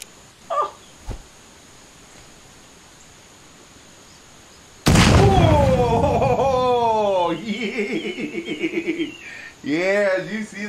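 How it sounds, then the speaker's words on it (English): In a video game, a dropped grenade goes off in a sudden loud blast after a few faint knocks, followed by excited voices and laughter. "Dropping a lot of grenades."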